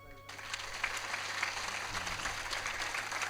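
Audience clapping during a Marathi Shiva Purana religious discourse, a steady dense wash of applause from a hall crowd, with some voices mixed in.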